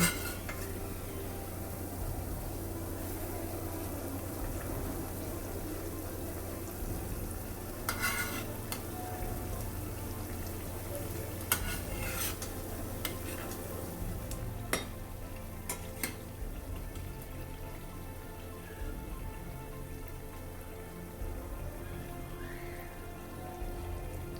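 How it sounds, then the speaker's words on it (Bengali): Bread slices fry in oil over a high flame for shahi tukra, giving a steady, close sizzle with rain-like crackle throughout and a few sharper clinks or stirring scrapes along the way. "এগুলোকে আমি হাই ফ্লেমে খুব ভালো করে ভেজে নেব"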